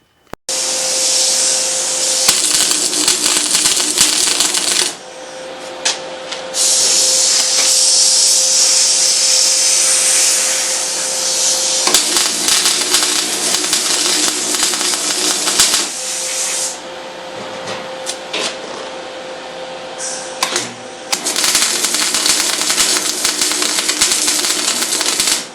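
Close welding on the steel top of a custom fuel tank, long loud crackling hissing bursts of several seconds each with brief pauses between tacks.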